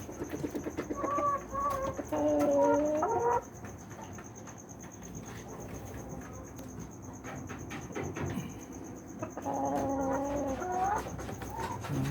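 Rhode Island mahogany chickens and a rooster on a small backyard farm, with clucking calls in two bursts near the start and end, loud and close, over steady insect-like background noise.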